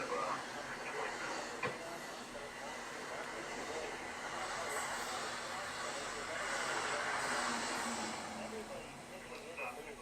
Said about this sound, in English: Amtrak comes with a charger at the end.